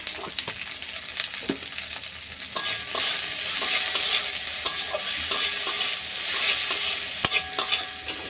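Chopped medium tomato with salt cooking in a pan, a soft sizzle broken by frequent close stirring scrapes and clicks of a spatula, with no talk.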